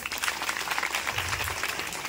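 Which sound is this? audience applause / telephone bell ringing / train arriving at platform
audience applause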